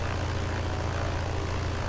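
A BN-2A Mk III Trislander's propeller engine drones in Microsoft Flight Simulator, a steady, loud, low-pitched hum with no pauses and no voices.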